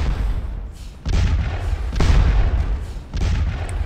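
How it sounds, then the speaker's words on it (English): Artillery guns firing on a Waterloo battlefield in a Napoleonic war game, a run of heavy, deep booms in quick succession, each swelling and rumbling before the next lands, loud and close with no talk. "Our guns are still firing. They're doing their very best to shell the enemy."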